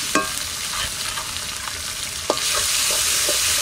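Onion, garlic paste and chilli fry in hot oil with a loud, steady sizzle and a few sharp clicks of stirring, close up and without talk.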